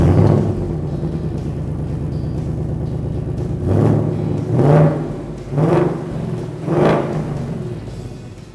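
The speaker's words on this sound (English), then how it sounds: "let's fire up the Mach 1 and hear what it sounds like with the factory exhaust in place" A Ford Mustang Mach 1 V8 engine with factory exhaust idles with a deep, steady rumble, then is revved four times in short, throaty bursts that swell and fall back.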